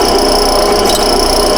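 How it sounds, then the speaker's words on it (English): Steady, close grinding whir of a drill bit cutting through sheet metal to make holes for plug welding, a continuous bright rasping drone with no pauses or voices. "Let the drill cut at its own speed."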